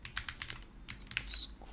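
Quick, light clicking of keys on a computer keyboard at a live open-source coding session, a short burst of close, fairly quiet taps with no talking.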